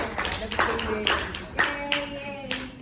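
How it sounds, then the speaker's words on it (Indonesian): Several pairs of hands in a classroom clap for a student, giving sparse, uneven claps that rise and fall in short bursts, with voices mixed in. "Tepuk tangan lagi dong untuk Elisa."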